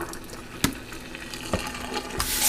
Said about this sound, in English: I'm going to drain off the first water.